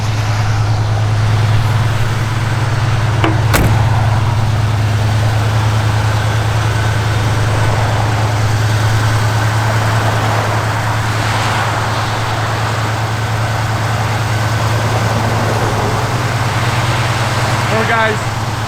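A 1978 Chevrolet El Camino SS engine idles steadily and loud, a low continuous rumble running throughout with a mildly throaty, not overdone tone and a brief sharp click near the start.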